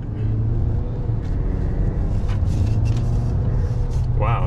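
A 2022 Ford Maverick XLT with the front-wheel-drive 2.0 EcoBoost engine accelerates hard, its loud, steady cabin drone and road rumble holding throughout, with a brief chirp near the end.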